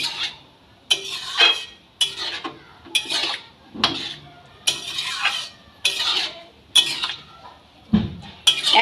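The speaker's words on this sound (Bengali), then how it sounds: "খুব ভালো করে মিশিয়ে নিতে হবে।" Egg tadka being stirred and mixed in a metal pan, with a steady series of scraping, clinking spatula strokes that repeat about once per second, close and clear.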